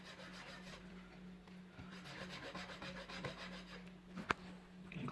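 A metal file rasping along the edge of a plastic SIM card, quiet repeated rubbing strokes with a faint steady hum underneath and one brief sharp tick near the end.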